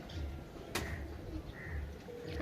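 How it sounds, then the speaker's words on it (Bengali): Racing pigeons landing after a race released from the Padma Bridge give low, soft coos, repeated close by over steady outdoor background noise, with one brief sharp sound partway through. "আটটা কবুতর আসছে"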